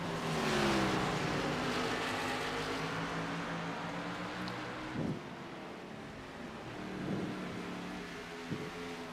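Race cars on worn tires at Mid Ohio roar past one after another, with engine pitch rising and falling as they accelerate, all under steady wind noise.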